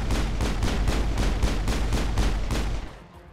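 Grenade blasts and rapid gunfire in the Mass Effect video game: a loud, dense run of about eight evenly spaced booming bursts that taper off at the end, with no talking.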